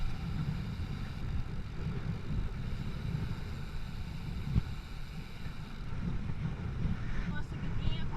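Steady wind rushing over the microphone during an outdoor interval cycling workout uphill into a headwind, a dense low roar that holds throughout with a brief bump partway.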